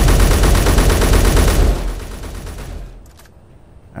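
Fully automatic MR50A rifle fire in the video game Space Engineers: a loud, rapid continuous burst of gunshots for about a second and a half, then ringing echo and tail, with a sharp sound returning at the end.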